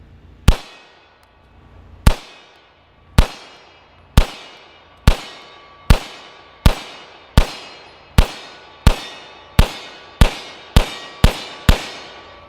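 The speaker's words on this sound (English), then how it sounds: "let's do a little bit of shooting first with the M9A3" About sixteen sharp pistol shots from a Beretta M9A3 ring out at an outdoor range, each followed by the clang of a steel challenge target downrange. The shots start spaced out, then come faster and faster toward the end.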